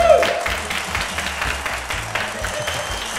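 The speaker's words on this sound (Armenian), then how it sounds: "ծափարություններ" A studio audience at a televised Armenian game show applauds. The clapping is steady and moderately loud, starts at full strength and holds throughout with no talk over it.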